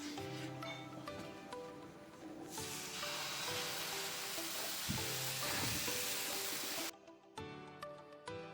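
Rava dosa fries in oil on a hot pan with a steady, close sizzle that swells louder midway, then breaks off into quieter crackling near the end.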